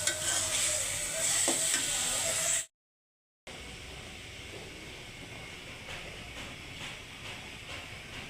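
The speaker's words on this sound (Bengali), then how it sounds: "এই যে শাক রান্না শেষ।" Leafy greens cooking in a pan, a continuous soft sizzle with faint stirring, cut by a brief silent gap before the sizzle resumes steadily to the end.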